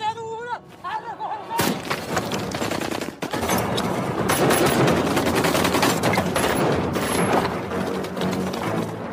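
Rapid bursts of gunfire ring out through a film chase scene in which guards pursue the fugitives, with a shot fired into a cliff face; dense, loud shooting runs nearly continuously with blasts and thuds mixed in.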